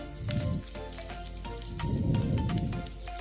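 Pointed gourd and tomatoes fry in a pan with a steady, close sizzle that swells and eases in waves, broken by light stirring clatter and no voices.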